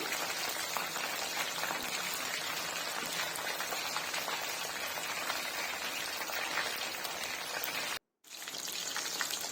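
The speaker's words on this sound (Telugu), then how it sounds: "ఇలా రెండు వైపులా టర్న్ చేసి బాగా డీప్ ఫ్రై చేసుకోవాలి" Scored chicken leg pieces deep frying in hot oil make a dense, loud, continuous crackling sizzle that cuts out for a split second before resuming.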